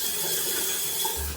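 A black square wall-mounted rainfall shower head runs water at strong pressure, a steady hissing spray heard alone at moderate volume.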